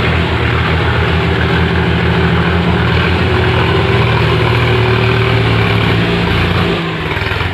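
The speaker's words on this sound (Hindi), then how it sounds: "और इधर दूसरा ट्रैक्टर।" A farm tractor working muddy fields runs nearby with a loud, continuous engine drone that holds steady and eases slightly near the end, with no speech over it.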